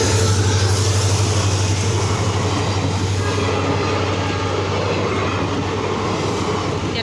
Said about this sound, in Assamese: ইয়াৰ পৰা ট্ৰেইন গৈ আছে